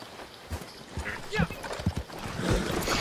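Horse hooves clip-clop in a video game as a run of uneven thuds, fairly close, with a brief whinny-like sound and a person talking and exclaiming over them.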